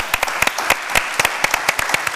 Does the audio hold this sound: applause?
yes